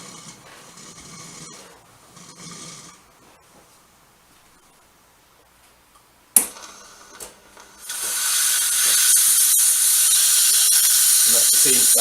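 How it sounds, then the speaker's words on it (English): Quiet room tone with faint talk, a sharp click, then a loud, steady steam hiss from the steam wand of a De'Longhi ETAM29 620 SB bean-to-cup coffee machine that keeps going to the end. "And that's the steam starting."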